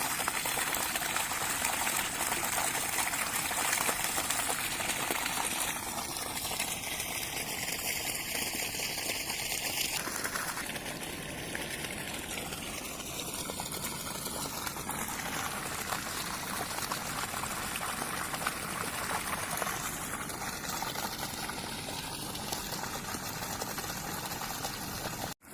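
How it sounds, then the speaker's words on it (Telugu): Farm motor pumps gush water in a steady, continuous rush after heavy rain, a loud unbroken wash of pouring water running the whole time with no voices. "ఫుల్ పోస్తున్నాయి ఫ్రెండ్స్ మోటార్లు అయితే"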